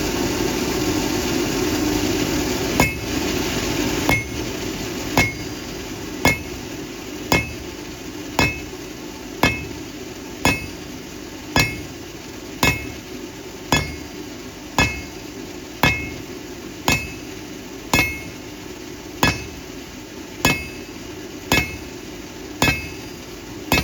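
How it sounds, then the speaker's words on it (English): A blacksmith strikes the end of a hot steel bar again and again to upset it. The hammer blows ring out sharp and evenly spaced, about one per second, over a constant low engine-like hum. "I can then hit on the flat end of the upset to just make the end more square to the bar."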